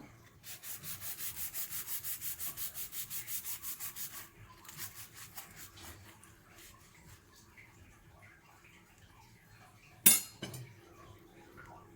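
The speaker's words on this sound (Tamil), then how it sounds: "இப்போ ஒவ்வொரு பன்னையும் நமக்கு சென்டரில் இப்படி கட் பண்ணலாம்." A knife saws back and forth through a soft butter cream bun in a home kitchen, an even rasping rhythm for about four seconds, then faint scraping and one sharp clink of utensils near the end.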